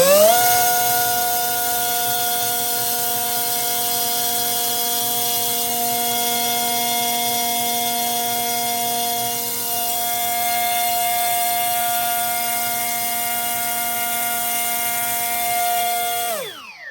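An Air Hogs Titan FPV drone motor spinning its propeller on the bench, a loud, steady high-pitched whine with strong harmonics held for about sixteen seconds before spinning down at the end.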